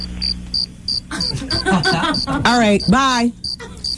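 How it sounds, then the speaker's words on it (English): A cricket chirping sound effect played on a radio talk show, rapid regular high chirps repeating throughout while someone speaks over them. "we'll just let the crickets ride out"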